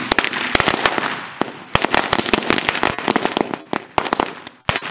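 A string of Sivakasi firecrackers pops in loud, rapid, irregular bangs, crackling on and off for several seconds with short gaps.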